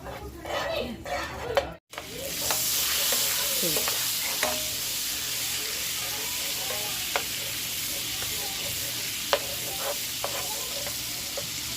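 Vermicelli frying and stirred in pure ghee in a pan, a steady close sizzle with occasional clinks of a utensil against the pan after a brief pause near the start.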